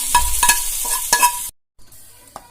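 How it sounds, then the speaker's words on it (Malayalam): A spoon scrapes and stirs as sautéed onions are mixed into palak soup in a pot. A few distinct strokes come over a soft sizzle, then it briefly drops to near silence before faint quieter stirring resumes. "അപ്പൊ നമ്മൾ ഉള്ളി ചേർത്ത് നന്നായിട്ട് മിക്സ് ചെയ്യാം"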